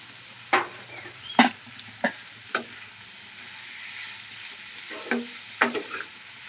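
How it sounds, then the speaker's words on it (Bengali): Soybean chunks and boiled potato are sautéed in a pan for a vegetarian soybean curry, with a spatula scraping and knocking in irregular strokes over a faint, steady sizzle. No one speaks. "আবারও ভালো করে কষিয়ে নেব আবার একটু কষিয়ে দিয়েছি সয়াবিনগুলো এবারে দিয়ে দেব এই আলুটা"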